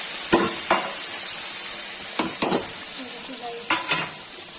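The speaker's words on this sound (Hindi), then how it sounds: "ये भून जाएगा, मैरून हो जाएगा अदरक लहसुन और प्याज।" Constant hiss of onion and ginger-garlic paste frying in a pan, with a few bursts of stirring and scraping breaking through the sizzle.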